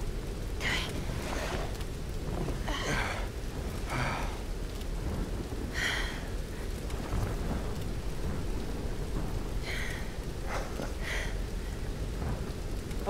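Steady heavy rain with rolling thunder in the video game Tomb Raider Definitive Edition on PS5, a dense continuous downpour with several low rumbling thunder swells throughout.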